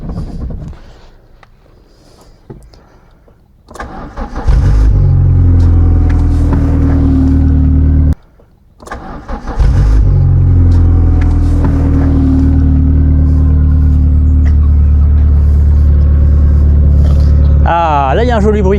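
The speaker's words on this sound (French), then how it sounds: "Ah, là il y a un joli bruit." A car engine revving hard through its exhaust and muffler, a deep throaty roar that rises, drops away briefly, then swells again, close and loud with voices in the background.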